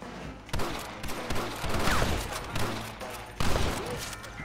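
Gunfire in Red Dead Redemption, a series of sharp rifle and pistol shots cracking at irregular intervals, some close and loud, others trailing into echoing volleys.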